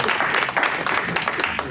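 A French political audience in Orléans breaks into a short, dense burst of applause, many hands clapping at once, loud and close throughout.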